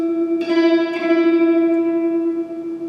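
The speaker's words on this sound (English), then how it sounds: "as you rock the pedal forward, the rate of the tremolo increases, the depth of the tremolo increases, so that the intensity of the effect increases" Electric guitar run through an Ernie Ball Expression Tremolo pedal with reverb, a sustained chord ringing with steady harmonics and two fresh strums layered in, pulsing tremolo and a reverb tail, no talking.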